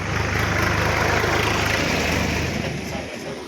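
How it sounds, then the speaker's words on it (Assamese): A tractor engine on a dusty village track rumbles loudly and steadily close by, a low idling drone that eases off slightly near the end. "ট্ৰেক্টৰ আহিছে, ধূলি উৰাই থৈ গৈছে,"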